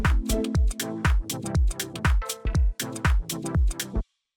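A sparse electronic groove, with a minimal hi-hat sample ticking on the upbeats and bathed in light reverb over punchy kick-like hits, steady and loud, ending abruptly.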